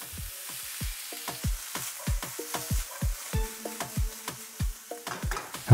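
Chickpeas with red onions frying in coconut oil in a non-stick pan over medium heat, stirred with a utensil that scrapes and taps in a steady rhythm of sharp knocks over a soft sizzle.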